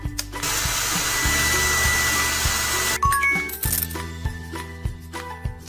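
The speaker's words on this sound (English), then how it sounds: "Use the hair dryer." A cartoon hair dryer in a princess-themed preschool video game blows as a steady breathy whoosh for about three seconds, then cuts off into bright chimes, clinks and light game music.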